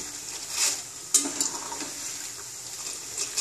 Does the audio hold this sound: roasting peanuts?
yes